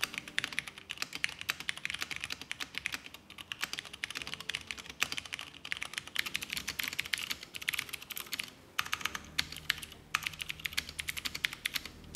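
Fast, continuous typing on a Cherry G80-3000 mechanical keyboard with Cherry MX switches, dense crisp key clicks close up with a steady irregular rhythm and no voices.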